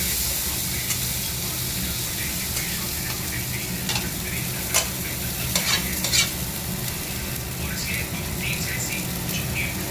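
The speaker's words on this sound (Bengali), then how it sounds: "মশলাটা ভেজে একটুখানি ভেজে তারপরে এই লাউটা দেবো।" Spice masala frying in a pan before bottle gourd goes in, a dense constant sizzle and hiss with intermittent spatula scrapes, fairly close, no speech.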